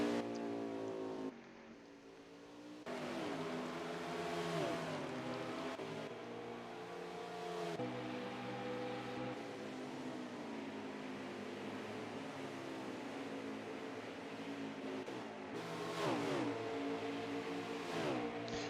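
Race cars at Watkins Glen accelerating off corners, engines climbing through rising revs and shifting repeatedly, sustained loud whining drone over nearly twenty seconds with no talk.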